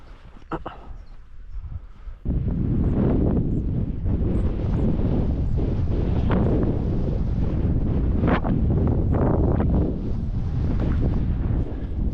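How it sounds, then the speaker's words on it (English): Wind blows hard against the microphone outdoors on Tasmania's east coast, a heavy, steady rumbling roar that starts abruptly after a quieter opening and continues unbroken. "Bit of wind there."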